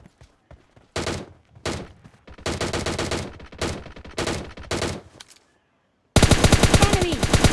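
Automatic gunfire from PUBG Mobile Lite, with rapid loud bursts of shots separated by short pauses, then a sustained dense volley at the end.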